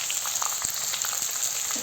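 Peanuts and onion fry in oil in a pan for kanda poha, giving a steady close sizzle with small crackles and pops throughout.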